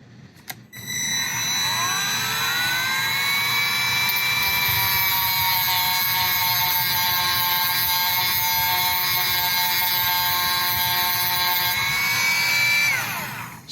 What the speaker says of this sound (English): I'm just using a sanding drum, really low RPM, to take a tiny bit of material